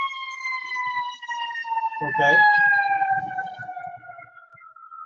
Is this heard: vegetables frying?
no